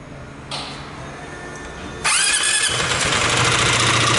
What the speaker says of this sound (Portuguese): Olha aí, galera, o barulho que esse motor tá fazendo. Tá horrível.